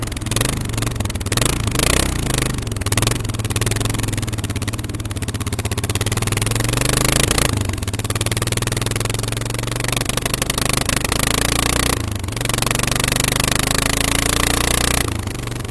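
Ailing motorcycle engine with recently repaired carburetors running on a rough road trip in Kyrgyzstan, a loud, uneven drone with rattles and clattering bursts and shifting revs, heard close throughout.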